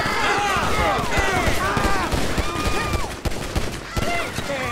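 Rapid gunfire from a modded open-world shooter test with spawned bodyguards and gang enemies: a dense burst of repeated shots, loud and close, with rising whistles and impacts over a busy background.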